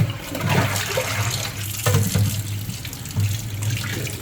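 Running tap water splashes over betel yam being scrubbed clean of mud in a sink, a close, steady gush broken by irregular splashes as the tubers are turned under the stream.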